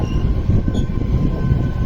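Janshatabdi Express train number 12080, running from Hubballi to Bengaluru, rumbles steadily and loudly along the rails. The low wheel and carriage noise is continuous and close, with faint tonal hums above it.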